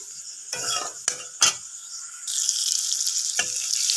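Metal spoon scrapes and clinks in a pan as fried pointed gourd is stirred into sizzling spices for doi potol, over a steady bright sizzle, with a few sharp knocks, up close and fairly loud.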